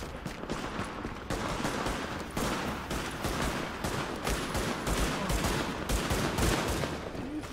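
Sustained rapid gunfire fills a firefight in The Division, with dense overlapping bursts of automatic shots and a loud, steady barrage rolling on without pause.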